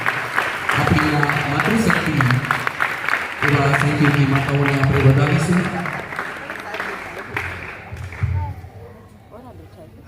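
An audience at a school NSS camp night program applauds steadily under someone speaking loudly over it, and the clapping fades toward the end.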